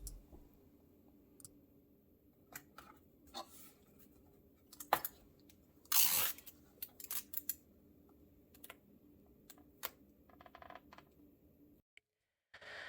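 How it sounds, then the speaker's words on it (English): Adhesive tape being pulled and torn close up in a quiet room, scattered crackling rips and sharp clicks, with one louder tearing burst in the middle and faint rustling between. "Now listen to some tape sounds."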